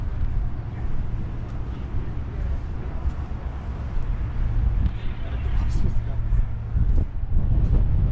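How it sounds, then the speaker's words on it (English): Steady wind buffets and rumbles across the microphone on the Valletta waterfront in Malta, a constant low roar with occasional gusts and faint voices mixed in. "how windy here. Let's get out of the wind"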